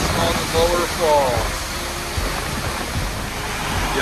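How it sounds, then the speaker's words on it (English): Steady rushing water from a roadside waterfall in the Scottish Highlands near Fort William, a constant broadband roar under brief voices and a faint whistle-like tone early on. "You have another waterfall right here on the side of the road."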